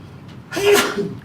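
A single sharp sneeze breaks out during a county commission meeting, a brief burst after a quiet moment in the room.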